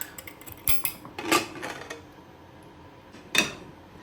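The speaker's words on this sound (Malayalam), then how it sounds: "കുക്കർ നമുക്ക് തുറന്ന് നോക്കാം" A pressure cooker that has just cooked rasam rice is opened with a few metallic clanks and clicks, a loud rattle near the start and another clank toward the end, no talking.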